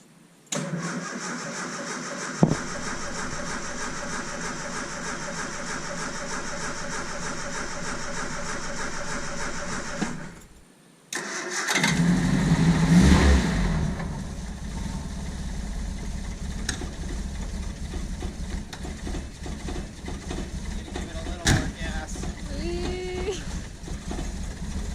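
1978 Triumph Spitfire engine after an oil change, cranking over steadily without firing to build oil pressure, then a pause and a second crank that catches and runs roughly up close.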